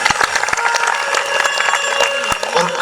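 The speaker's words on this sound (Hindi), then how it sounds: "एक बार राम जी के लिए जोरदार ताली बजाइए" A large audience at a Shrimad Bhagwat Katha gathering claps loudly and continuously, dense applause with sharp individual claps standing out through the whole stretch.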